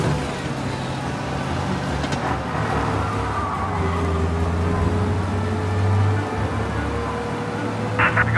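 Car engine in Mafia: Definitive Edition driven fast, a steady loud motor drone with a rising rev near the end, continuous through the whole stretch with no talk over it.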